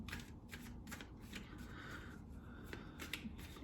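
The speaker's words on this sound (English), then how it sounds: "I'm going to shuffle the cards now" Steady, fast riffling of a deck of tarot cards being shuffled up close, repeated bursts of crisp papery flutter with no talking.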